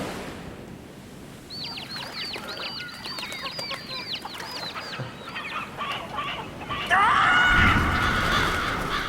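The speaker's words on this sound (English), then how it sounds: "It's an army of crows." A flock of crows caws in a cutscene from the Billy Hatcher video game, with many rapid overlapping calls over a steady background score and a louder swell of sound near the end.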